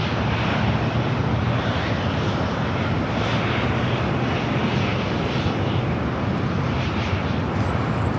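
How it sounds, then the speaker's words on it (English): A WestJet Boeing 737-800 takes off, a loud, steady jet engine roar that fills the whole stretch with broad rumbling noise and no speech. "The next takeoff is WestJet 1511 taking off to Calgary on the 737-800."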